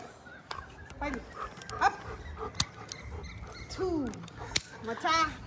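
A small dog yips and whimpers nearby, with short sharp barks and a rising, drawn-out whine among soft background noise.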